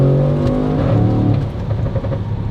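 Audi S6 C7 exhaust with Valvetronic universal valved mufflers and resonator delete, valves open, revving loud and close, with a deep harmonic roar that climbs and then drops away as it settles.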